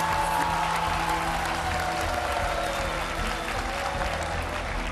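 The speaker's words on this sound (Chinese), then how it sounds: "掌声鼓励" A studio audience at a Chinese game show claps in a dense, steady round of applause that lasts the whole stretch, loud and close, with faint crowd voices mixed in.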